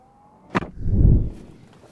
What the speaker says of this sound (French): je mets le pied sur le frein, la porte se ferme